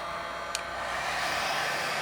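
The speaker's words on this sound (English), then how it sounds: "now the hair dryer is running" A hair dryer runs from an inverter on battery power in a garage, a steady close whooshing blower roar that holds evenly throughout, with one tiny click early on.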